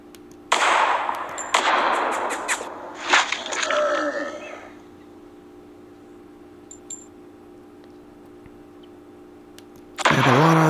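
A toy laser sniper blaster from the Sharper Image AR Blaster game fires a few sharp electronic zaps over a couple of seconds, close and fairly loud, followed by a quiet stretch and a final burst of sound.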